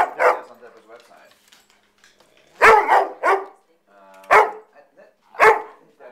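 A dog barks at puppies in sharp, loud, close bursts, singly and in quick pairs separated by quiet gaps, with softer whimpering sounds between them.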